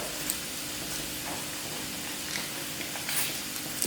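Browned garlic sizzles in a hot pan, a steady close crackle with scattered pops and faint stirring, no talk over it.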